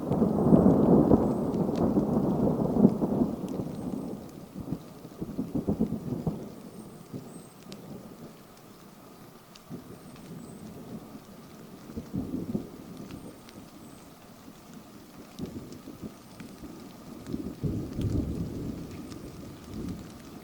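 Thunderstorm at an outdoor camp, with a loud rumble of thunder at the start, then steady heavy rain and further rolling thunder swelling and fading throughout.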